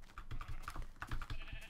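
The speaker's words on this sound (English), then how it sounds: "Mr. Sheep, Mrs. Sheep, and baby sheep is now grown into big sheep." Sheep in the Minecraft video game give quiet, short bleats in a soft rhythmic series over faint clicking, like keyboard typing.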